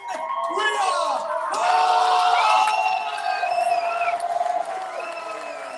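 An indoor wrestling crowd in Langford cheers, whoops and whistles loudly for the defending VIPW women's champion Rhea at her entrance, a sustained roar with shrill individual yells rising above it.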